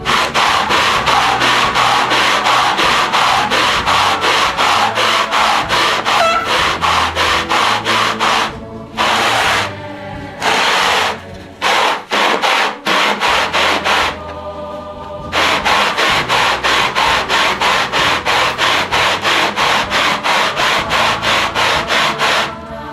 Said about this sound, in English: So put it on the sanding dish and spin it.